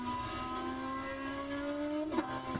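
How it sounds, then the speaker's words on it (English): Race car engine in a sim racing game at Suzuka, a German touring car easing off the throttle: a steady buzzing drone whose pitch sags slowly, then a brief burble near the end, fairly faint. "You can hear the lift on the throttle."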